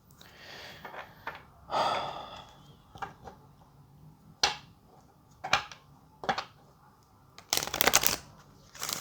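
A deck of oracle cards is shuffled during a tarot reading, with repeated bursts of riffling and flicking separated by pauses, close up, along with soft breathing.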